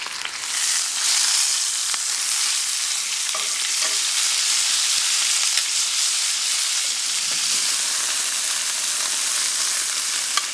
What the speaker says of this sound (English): we're just gonna get a little bit of color on the meat. We're gonna sear it in some of the spruce tip olive oil